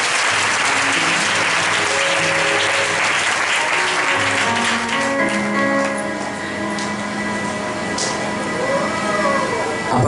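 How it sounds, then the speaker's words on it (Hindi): A church congregation claps together for Jesus during a Hindi worship service, loud dense applause filling the room throughout, with a keyboard or music playing beneath and thinning slightly toward the end. "एक बार यीशु के लिए ताली बजा दें।"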